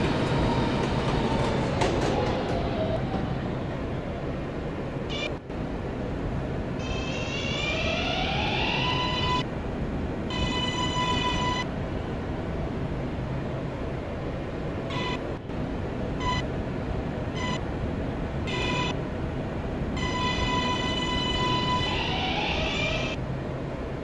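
An R143 N local subway train runs on a Roblox rail line, a steady rolling rumble with repeated electronic tones and chimes layered over it, close and continuous throughout.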